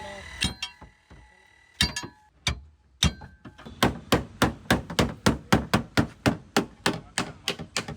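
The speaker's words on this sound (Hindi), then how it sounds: "देखो अंदर से हथौड़ा मारो और शेप में आ जाती है अपने आप चीज" Hammer blows on the dented bonnet of a Scorpio N, struck from the inside to push the metal back into shape: a few scattered knocks, then a steady run of about fifteen quick, evenly spaced metallic thuds, close and fairly loud.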